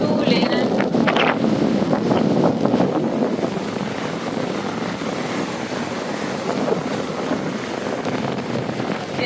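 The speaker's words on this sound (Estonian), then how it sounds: "Päris tuuline." Strong wind buffets the microphone on a beach at Hua Hin, Thailand, a loud continuous roar with gusty rumble and surf washing underneath, and indistinct voices mixed into the noise.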